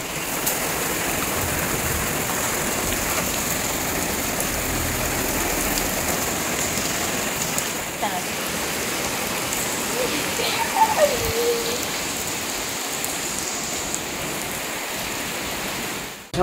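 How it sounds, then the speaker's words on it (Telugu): Steady, dense rain hisses continuously, a broad wash of falling water with scattered drops standing out, no voices heard. "చూడండి పెద్ద వాన పట్టుకుంది"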